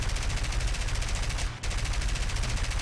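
Aircraft guns fire in sustained, rapid bursts during a War Thunder dogfight involving a Level 1 Russian aircraft. The dense rattle runs loud and continuous, broken by one brief drop, with engine drone underneath.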